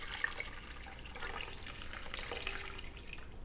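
Homemade chicken broth pours into a crock pot over beef, a steady splashing trickle of liquid heard close and quiet, with no talking.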